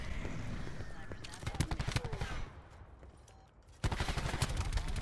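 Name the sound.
SMG gunfire in a video game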